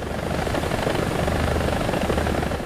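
Mi-35M attack helicopter in flight in a combat video game, a dense, continuous rotor thrum with rapid blade chop and engine roar, loud and steady throughout with no voices.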